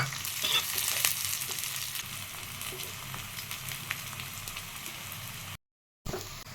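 Onions frying over high flame in oil with browned ginger, chili and garlic, a loud crackling sizzle with stirring clicks that cuts out for a moment near the end before resuming.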